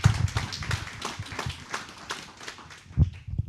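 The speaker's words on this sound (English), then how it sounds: "Before you can even clap for me, you better start clapping for yourself" An audience at a business seminar claps, heard as a loose patter of hands that is fairly near and fades and swells unevenly, with a louder burst near the end.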